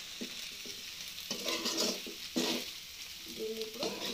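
Okra with spices frying on a slow flame, a soft sizzle with a few gentle stirring scrapes, close but quiet, and a faint voice in places.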